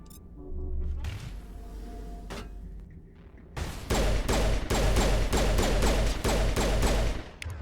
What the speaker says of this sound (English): These guys are sniping a lot.